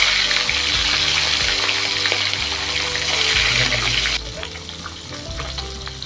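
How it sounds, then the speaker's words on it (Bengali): Fish pieces fry in hot oil in a wok for a Bengali fish curry, producing a loud, dense, watery sizzle that drops to a quieter crackle partway through, with low hum beneath. "এখন আমরা এতে একে একে মাছগুলি দিয়ে ভেজে নেব"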